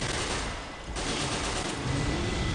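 Grenade blast and rapid gunfire from a zombie shooter video game, a dense continuous burst of automatic shots and explosive rumble filling the moment, loud and steady with no talking.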